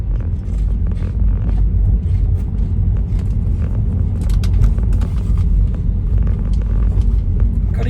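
A car drives through road traffic with a constant loud rumble of road and engine noise and occasional wind buffeting, no voices.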